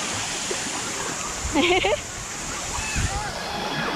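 A steady rush of falling water from a water park waterfall fills the scene, broad and constant, with a brief voice cutting through in the middle.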